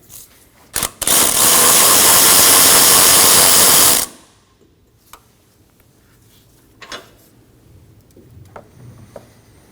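A ratchet removes an engine mount bolt on a 2014-2023 Ford Transit Connect 2.5L: one loud, continuous buzzing run of about three seconds, close by, then near-silence with a few faint metallic clinks.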